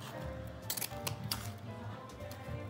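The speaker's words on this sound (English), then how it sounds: "I need better scissors. These don't cut well." A few short, crisp snips of dull scissors cutting material for a Christmas garland, close by, with soft handling noise between the cuts and no talking.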